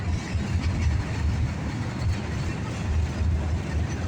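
A northbound CSX mixed freight train passing nearby, a continuous loud low rumble with rolling rail noise and faint rhythmic clatter of cars going by.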